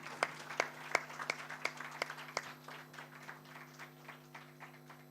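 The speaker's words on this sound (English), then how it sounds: "A big round of applause for sir." Applause at a stage event, sparse, distinct claps from a modest audience as a finance company's CSR director joins the stage, steady throughout and fading slightly toward the end, with a constant electrical hum beneath.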